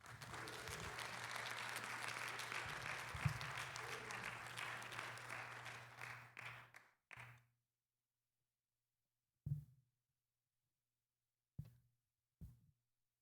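Audience applause at a civil rights address, steady hand clapping from a crowd for about seven seconds that fades out, followed by a few isolated thumps and scattered single claps in near silence.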